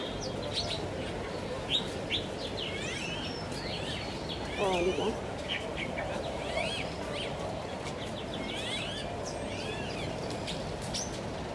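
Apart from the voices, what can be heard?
birds chirping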